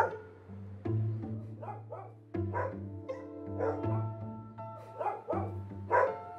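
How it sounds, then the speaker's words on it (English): Big dogs barking in repeated bursts close by, with a steady droning tone running underneath throughout. "So we have some big dogs."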